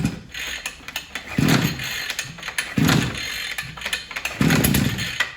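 A motorized brush cutter's recoil starter is yanked three times with its choke raised, each pull a loud ratcheting, whirring burst about 1.5 seconds apart; the engine does not catch, and there is no talking.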